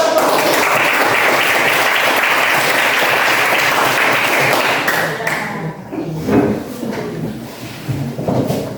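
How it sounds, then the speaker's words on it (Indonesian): A classroom of students applauds after group presentations, a dense, loud burst of clapping that runs steadily for several seconds before thinning out into scattered claps and room noise. "Oke, baik, tepuk tangan dulu."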